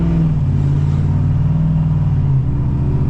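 A tuned 2023–2025 Ford 6.7 Powerstroke diesel pickup pulls out under throttle, its loud, close engine rumble rising steadily and then easing slightly near the end.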